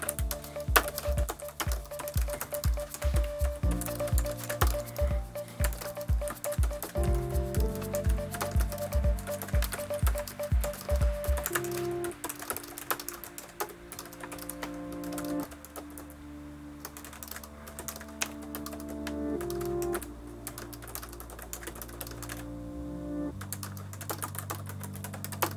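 Typing on a Bluetooth keyboard connected to a Boox Tab X e-reader tablet: rapid runs of close, crisp key clicks, quick bursts then steadier tapping with brief pauses, heard alone with no voice.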